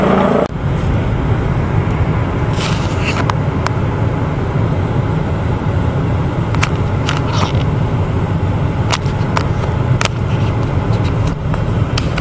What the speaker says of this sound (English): Yeah, it's a police helicopter.